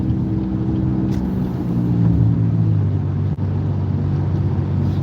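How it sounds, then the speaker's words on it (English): A car accelerates on a road in a steady, loud low engine and road rumble with wind noise. The pitch rises slightly partway through, and no one talks. "I'm gonna accelerate through."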